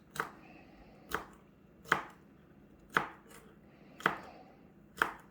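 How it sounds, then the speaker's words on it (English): A knife slices potatoes on a cutting board in six evenly spaced, crisp chops, close by with no one speaking. "we're also going to slice up the potatoes"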